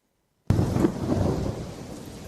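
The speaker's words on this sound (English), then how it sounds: "It was raining," Sudden loud crack of thunder bursting out of silence, then a rolling rumble over heavy rain that slowly fades; stormy weather on a road, no speech.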